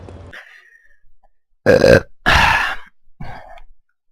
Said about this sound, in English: There's your obligatory Homer Simpson 4 drinks in burp